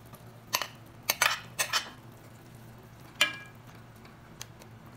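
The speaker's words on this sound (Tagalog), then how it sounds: "Haluin lang natin ng konti." A metal utensil clatters and scrapes in a cooking pan as carrots, green beans and potatoes are stirred, several sharp clinks in quick succession, then a lone clank after a pause, over a faint sizzling hum.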